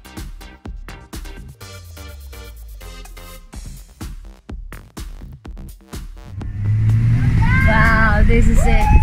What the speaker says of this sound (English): This is it. The ride, the limo ride.